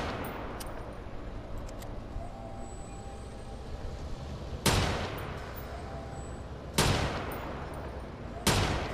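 Three sharp, loud shots ring out at spaced intervals over a constant low background rumble of gunfire in the open-world game Watch Dogs 2.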